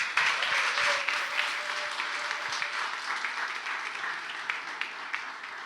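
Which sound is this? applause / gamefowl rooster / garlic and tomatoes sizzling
applause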